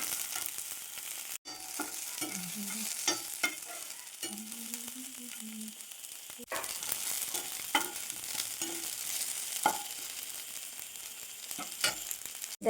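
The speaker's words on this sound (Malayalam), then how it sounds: "കറിവേപ്പിലയും കൂടെ ഒക്കെ ചേർത്തതിന് ശേഷം നന്നായിട്ട് വഴറ്റിയെടുക്കണം." Curry leaves sauté in hot oil in a pan for a quick chutney, giving a steady close sizzle broken by intermittent scraping stir clicks, with no talking.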